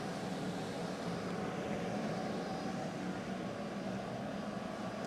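Propane forge blower running as a steady, broad rushing roar with no breaks, moderately quiet and constant throughout.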